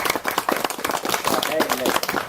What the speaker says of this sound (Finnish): minä antaisin hänelle aplodit